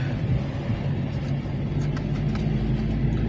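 Interior drone of a car driving on Réunion island roads near Rivière Saint-Louis, a steady low engine and road rumble with faint rattles, continuous and moderately loud, no speech.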